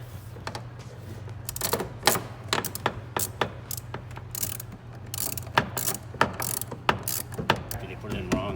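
Ratchet wrench driving bolts along the railing of a LeMans Edition exhaust on a C8 Corvette, rapid metallic clicking in uneven bursts over a steady low hum, close by.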